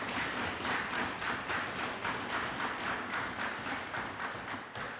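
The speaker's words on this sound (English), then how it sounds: "Let's give them a round of applause." A round of applause fills an assembly chamber during a parliamentary sitting, a soft, steady patter of many hands clapping with a faintly pulsing rhythm and no voices.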